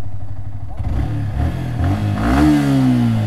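A motorcycle engine with a freshly replaced silencer idles close by, then revs upward near the end with a rising, steady exhaust note.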